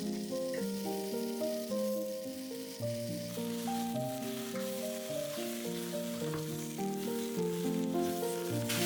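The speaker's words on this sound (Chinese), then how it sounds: "再加入鸡腿肉" Chicken thigh sizzles in a pan with onion, carrot and potato, a steady frying hiss running under louder background music.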